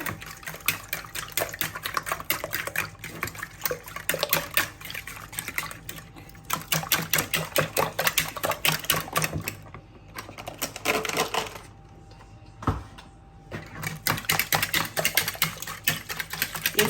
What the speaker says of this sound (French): Donc, on va fouetter.